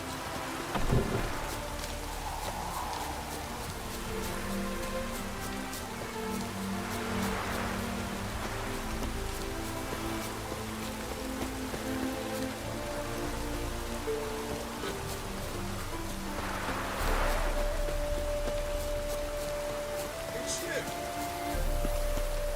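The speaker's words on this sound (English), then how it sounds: "Rain was coming." Steady rain and rolling thunder from a storm in The Witcher 3: Wild Hunt, with a few louder distant rumbles. Game music and occasional low sounds run beneath the storm.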